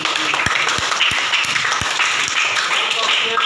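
A group of children claps in a quick, brief burst of sharp hand claps over a noisy room full of chatter.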